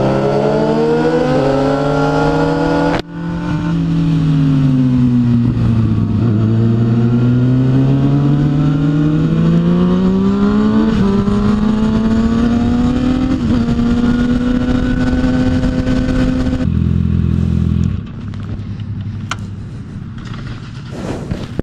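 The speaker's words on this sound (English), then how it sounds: "Hey Tex, don't accelerate so fast." A sport bike engine revs up strongly, pitch climbing and dipping through a long loud acceleration, close by, then dropping to a lower idle near the end.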